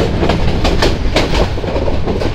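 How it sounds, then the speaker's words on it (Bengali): A train rolls slowly on rails through a tea and rubber garden area in Moulvibazar near Sreemangal while rounding a wide curve, with steady rhythmic wheel clacks over a loud continuous rumble. "এই যে আমাদের ট্রেন বিশাল বাঁকিয়ে যাচ্ছে।"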